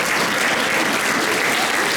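An audience at an art school graduation ceremony claps steadily and loudly, the dense applause filling the hall without a break.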